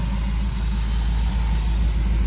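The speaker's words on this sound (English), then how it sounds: "right now I've just got it idling with the AC on" A Chevrolet C10 truck idles steadily with the air conditioning running, a loud, close, even low rumble that stays constant throughout with no talk.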